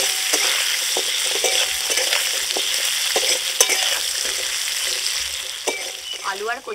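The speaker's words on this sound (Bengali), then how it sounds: "অল্প হলুদ দিয়ে এটাকে ভালো করে ভেজে নেব" Taro and potato pieces frying with a little turmeric, with a steady close sizzle and repeated scraping stirs. A brief voice comes in near the end.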